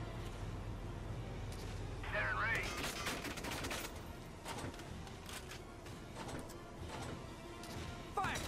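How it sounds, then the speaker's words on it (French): Loud bursts of gunfire and crashing explosions from a cannon firing in the war game Valkyria Chronicles 4, busy battle noise throughout with a sharp whistling streak partway in and a voice talking over it. "C'était avec le canon que je tire."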